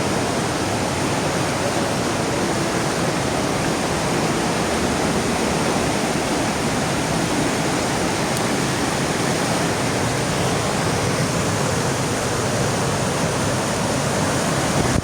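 Loud, steady rush of river water pouring into a tunnel, a dense continuous roar with no breaks and no voices.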